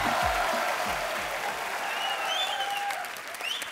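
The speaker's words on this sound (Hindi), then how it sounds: "जोरदार तालियां साथ साथ में" Loud studio audience applause on a comedy talk show welcomes film stars, with dense steady clapping, musical tones and swooshing effects mixed in.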